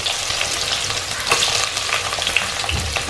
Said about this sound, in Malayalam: ഇപ്പൊ കടുക് പൊട്ടി, വെളുത്തുള്ളി